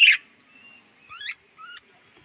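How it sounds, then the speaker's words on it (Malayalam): A small bird perched on a branch gives a few short, high chirping calls: one sharp note at the start, then two brief rising calls, fairly close with quiet pauses between. "ഇവിടെ ഒരു കുഞ്ഞു പക്ഷി കൊമ്പത്ത് കയറി ഗൈസ്."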